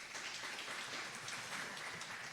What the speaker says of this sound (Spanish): Así que también el aplauso para todos en CESUN.